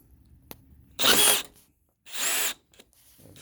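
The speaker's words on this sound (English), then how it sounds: "So in this case I'm using my drill" A cordless power drill works on the passenger front door lock actuator of a 2005-2010 Honda Odyssey, whirring loudly in two short bursts with a quiet gap between them, and light clicks and handling noise around them.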